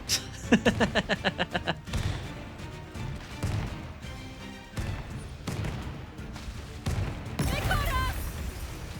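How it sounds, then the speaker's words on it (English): Cannons fire at a ship in the pirate game Corsair Cove: a rapid volley of about ten booms, then scattered heavy blasts and crashes, with sparse talk between them. "Are they firing? Oh, yeah, we've got cannons there."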